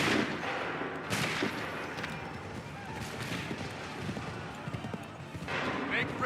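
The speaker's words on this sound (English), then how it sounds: "Open fire!" Muskets fire in a battle in Assassin's Creed III, with several loud cracks and volleys over continuous battlefield noise and shouting voices.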